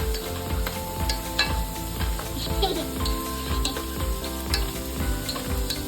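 Capsicum fries in a pan for egg and carrot fried rice, a steady close sizzle with repeated scraping and stirring clatter throughout, and faint background noise underneath.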